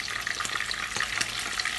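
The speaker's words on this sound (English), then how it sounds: "You can see my Makayabu how it's frying." Steady crackling sizzle of makayabu, Congolese salt fish, frying in hot oil in a pan, close by, with no talking.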